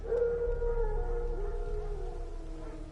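Wolves in The Witcher 3 let out a long, sustained mournful howl, close and steady, wavering slightly in pitch as it fades over nearly three seconds with no talk.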